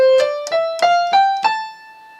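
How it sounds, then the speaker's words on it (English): An Aeolian mode scale on a folk instrument, with six clear, ringing notes climbing one after another at an even pace, each starting with a soft attack and sustaining into the next. "And then the very last one is the Aeolian mode"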